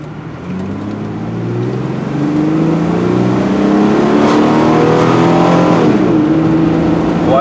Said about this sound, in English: Wide open throttle right now.